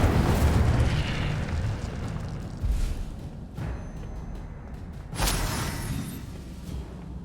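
Fire spells are cast in Hogwarts Legacy on PS5, giving several whooshing fiery bursts and booms, one loud burst at the start and others around three and five seconds, with a roaring rumble between them.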